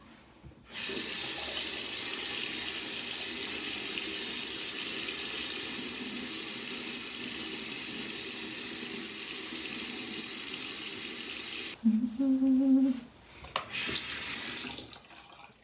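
Running water from a bathroom sink tap pours in a steady, loud, even stream for about eleven seconds, then cuts off, followed by a few brief splashes and drips as a face is washed.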